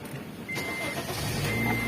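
A Honda Jazz fitted with a push-start button cranks and catches, its engine rising into a steady idle hum close by after a brief quiet moment, with no talk.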